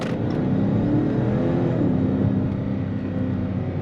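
A Dodge Charger RT with the 5.7 Hemi drives steadily with a constant, fairly loud engine drone and a rising tone partway through as it accelerates, without speech.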